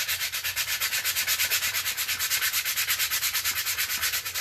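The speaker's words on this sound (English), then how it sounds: "So I'm probably still going to try to sand it off" Paint being sanded off a plastic Nerf gun makes a rapid, rhythmic scratchy rubbing at about seven strokes per second, close and steady with no talking.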